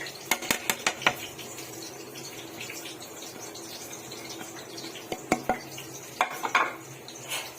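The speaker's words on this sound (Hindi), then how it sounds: "अभी इसका हैंड बेटर से अच्छी तरीके से फेंट लीजिएगा" A whisk or hand beater clinks against a bowl in short bursts of rapid taps as besan batter is mixed with turmeric, salt and ground chili. The taps are set over a quiet kitchen background, with no talking.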